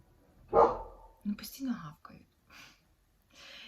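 A neighbour's dog barking outside an indoor room, one sharp bark followed by a few fainter ones, heard alongside quiet whispered talk nearby.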